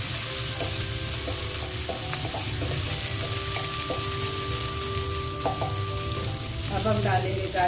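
Green onions fry in a pan for chicken vegetable fried rice, a dense, steady sizzle running throughout with faint tonal hum beneath.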